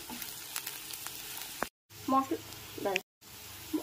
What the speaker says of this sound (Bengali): পেঁয়াজের সাথে মশলাটাকে 1 মিনিট ধরে ভেজে নিতে হবে।